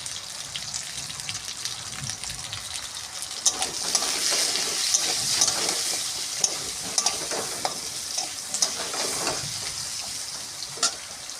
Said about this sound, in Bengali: পরিমাণ মতন তেল দিয়ে আমি আলুগুলো ভেজে নেব অল্প তেল দিয়ে